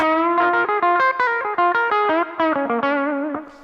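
Electric guitar plays a blues lick, a quick run of bent and sliding notes with distortion and chorus-like effect, close and continuous with no talking.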